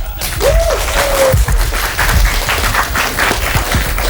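Dense studio audience applause on a crossword game show fills the whole stretch, steady and loud, with a brief whistle-like tone rising early on.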